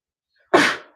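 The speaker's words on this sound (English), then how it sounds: "Sorry, I need to sneeze." A single sharp human sneeze bursts out after a half-second of silence, close and loud, then trails off quickly.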